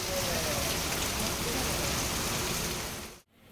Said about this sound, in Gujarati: તાલલા ગીરના માધુપુર અને ધાવા ગીરમાં વરસાદી ઝાપટા પડ્યા.